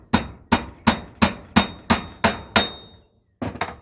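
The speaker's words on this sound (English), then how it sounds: "Just hit the back with the hammer." A hammer strikes the spacers of an e-bike coil suspension in eight sharp, evenly spaced metallic blows, then a short pause and two more quick hits, loud and close.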